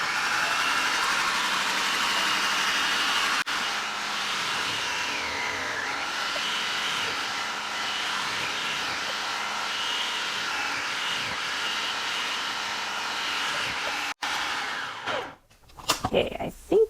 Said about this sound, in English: I'm going to shred my potatoes in my shredder. So it's going to be a lot of noise.